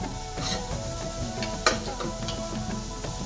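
Ginger for a vegan stir fry being stirred in a hot pan, with a continuous close scraping and rhythmic shuffling of the utensil against the pan over a low sizzle.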